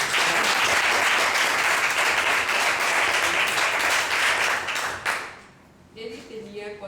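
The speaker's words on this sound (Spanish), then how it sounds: "un aplauso para Imala." An audience applauds a speaker named Imala at a storytelling talk, dense sustained clapping that fades out after about five seconds, leaving quiet room sound and faint voices.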